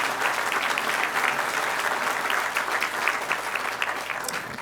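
At a college mechatronics lab grand opening, an audience applauds community members, a sustained, even round of clapping from a sizable crowd in an indoor hall, moderately loud and uninterrupted.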